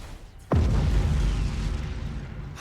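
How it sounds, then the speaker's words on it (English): A heavy cannon blast in Battlefleet Gothic: Armada 2 hits suddenly and loud, then rolls into a long rumbling roar of continued fire and explosions that slowly eases off. "Cannons are just destroying them."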